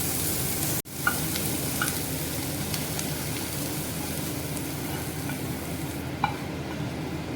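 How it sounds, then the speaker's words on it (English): Capsicum sautés in a pan for pav bhaji, giving a steady close sizzle with faint scraping stirs and a brief dropout near the start, no voices. "Now after this sautés, this capsicum should remain crisp, it should not cook through."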